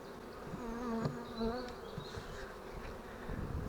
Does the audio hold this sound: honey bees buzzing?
yes